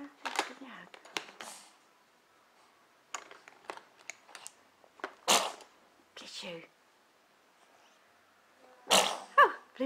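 A baby sneezes a few times in short sharp bursts at home, with adults talking softly around it and scattered small movement noises between the sneezes.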